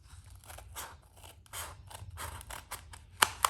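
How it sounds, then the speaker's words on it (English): Scissors cut through a styrofoam cup with a series of soft, crunchy snips and scrapes, heard close and quiet, ending in a sharper click. "What you need to do is cut the styrofoam cup"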